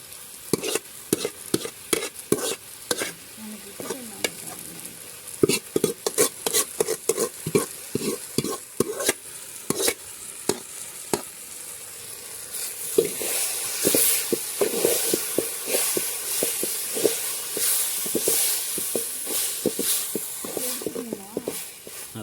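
Sour greens (pulicha keerai) stirred and fried in a pan, with rapid rhythmic scraping strokes over a continuous hissing sizzle that thickens into a denser steamy fry in the later part; no speech.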